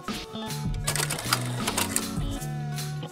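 A film projector glitch sound effect gives a rapid mechanical clatter with stuttering rhythmic ticks and hums, fairly quiet and lasting about three seconds.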